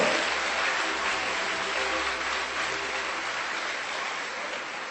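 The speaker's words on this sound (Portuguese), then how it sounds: "Pode aplaudir mesmo a esse Deus maravilhoso." A church congregation applauds together during a Sunday service, a dense, steady wash of many hands clapping that holds evenly for about five seconds with no voices on top.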